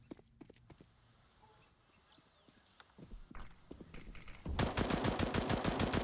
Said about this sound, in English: Tapping it out with the FAMAS.